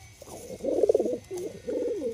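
A pair of pigeons kept in a bamboo cage coo nearby in soft, rolling phrases, with two separate bouts of throaty cooing and a short pause between them.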